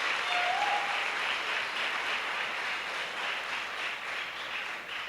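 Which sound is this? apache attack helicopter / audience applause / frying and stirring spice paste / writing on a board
audience applause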